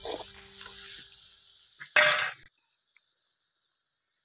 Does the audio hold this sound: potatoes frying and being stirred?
yes